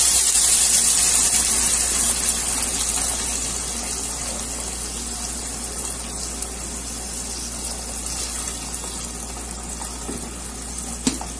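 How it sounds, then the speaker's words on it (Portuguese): Hot water is poured into a pan of rice cooking with mortadella and vegetables, a continuous loud gushing hiss and sizzle that slowly settles into a steady simmer. "Agora só vou acrescentar água quente e deixar ficar prontinha essa delícia."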